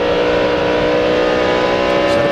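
A NASCAR stock car roars past at full speed during the 2004 Ford 400 race. The engine note is loud and steady and harmonic-rich, filling the whole stretch with no talk.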